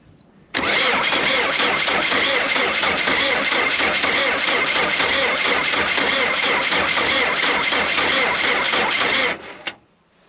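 A diesel engine that has sat for four years cranks steadily on the starter for about nine seconds, a loud, even mechanical churning that stops abruptly without catching.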